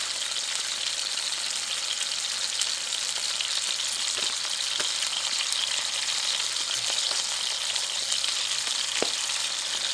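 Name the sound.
searing venison shanks in a pan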